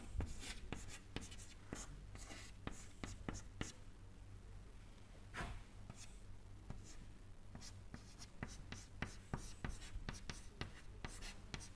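Chalk or marker writing on a board in a lecture hall on fluid dynamics, sharp repeated taps and scratchy strokes in bursts, with a quiet steady hum underneath.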